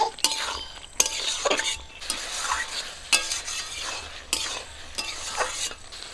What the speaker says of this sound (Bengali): আলু আর কচুগুলো দিয়ে আবার একটু কষিয়ে নেব।